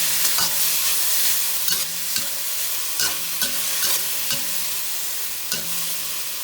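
Pineapple and cooked shrimp stir-fried in a wok: a loud sizzle under regular spatula scrapes and knocks, about a dozen strokes in a steady rhythm, with no speech.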